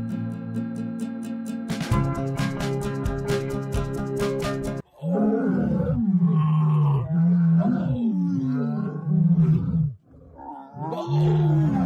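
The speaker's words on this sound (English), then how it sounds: "A lion has the loudest roar of all the big cats." A lion roars loudly and repeatedly, deep rumbling calls in a steady series with short pauses, preceded by a harsh, buzzy growl.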